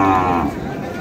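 At a Chittagong livestock market selling large bulls for Qurbani, one animal gives a single loud, close, low moo lasting about half a second, followed by a noisy market background.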